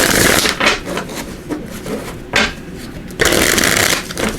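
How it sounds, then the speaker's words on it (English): A deck of Tarot of Dreams cards is shuffled by hand, close up, in quick riffling bursts separated by short pauses, ending in a longer loud ruffle. "I'm going to give these a quick shuffle"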